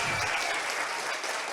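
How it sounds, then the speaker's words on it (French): Brief audience applause at a lively charity evening for farmers, a fairly quiet wash of many hands clapping at once, steady with no pauses. "On applaudit pour de bon là maintenant."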